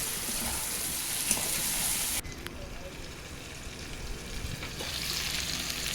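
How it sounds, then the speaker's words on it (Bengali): Masala with chopped tomato fries in a pan on a clay stove in a village kitchen, a loud sizzle that drops sharply after two seconds to a softer frying hiss, close by. "দিয়ে ভালো করে আমি মশলাটা কষিয়ে নেব। একটু টমেটো কুচি দিয়ে দিলাম।"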